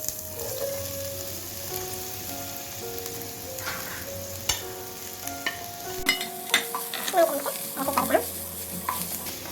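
Four sliced large onions fry in oil in a pan for chicken biryani, sizzling softly under background music, with scraping stir strokes growing more frequent toward the end.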